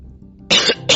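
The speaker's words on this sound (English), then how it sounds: "still recovering from a cough" A person coughs twice at close range, two short harsh bursts after a moment of near silence.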